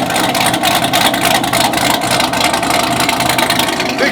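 A 900-horsepower Chevrolet Camaro ZL1 engine rumbles steadily nearby, a loud continuous idle with a slightly uneven pulsing throb and no voices.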